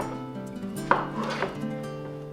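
A knife slicing mango flesh away from the large seed, heard as a few close, soft cutting and scraping sounds with one sharper knock against the board, over a faint steady background hum.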